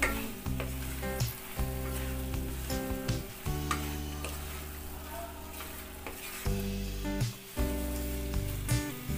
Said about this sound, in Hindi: अब इन सबको मिक्स कर लेना है।